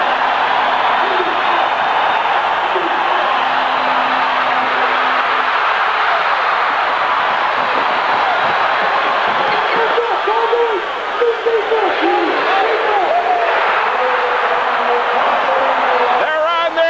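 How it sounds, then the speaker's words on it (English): At a 1985 Memphis State at Louisville basketball game in Freedom Hall, the home crowd roars in a broad, sustained wash of cheering beneath a commentator's voice. "Listen to this crowd."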